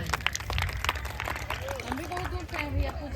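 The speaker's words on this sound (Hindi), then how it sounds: "चलो जोरदार ताली बजाइए" An audience at a village competition event applauds with scattered, busy clapping mixed with crowd chatter and a voice talking over it, moderately loud throughout.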